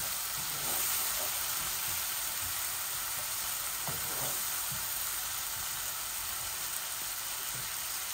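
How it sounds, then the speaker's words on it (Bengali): Green chillies and spices frying in oil for a taro leaf curry with hilsa fish head, a steady, moderately loud hiss and sizzle with faint scattered pops, continuous and without talk. "দেখছেন তেল বাসিয়া উঠিছে, আমার মরিচ মশলাগুলা ভাজা হয়ে গেছে"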